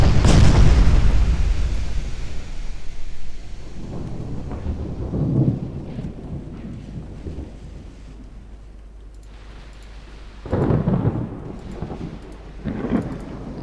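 Naval gunfire and shell explosions in the Ultimate Admiral Dreadnoughts warship game: a heavy deep boom opens, followed by rumbling, rolling blasts recurring at intervals, loud and low with a decaying tail between them.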